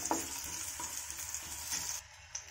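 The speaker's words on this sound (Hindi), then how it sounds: "लहसुन को यहाँ पर हल्का सा भून लेंगे।" Garlic cloves fry in a pan, making a steady, close sizzle with faint stirring and no voices.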